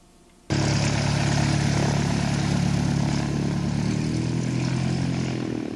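A propeller airplane's engine starts abruptly and drones loud and steady at close range, holding a low hum that eases slightly toward the end.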